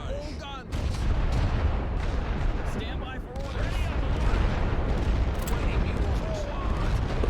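Artillery fire during a World War I trench battle in The Great War: Western Front, a rumbling barrage of booms and gunfire rolling on steadily, with someone talking over it throughout.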